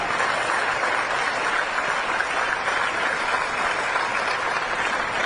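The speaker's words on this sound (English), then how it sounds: "You can clap for that." Sustained applause from an audience at a West Point speech, a dense even roar of clapping filling the whole stretch with no talk over it.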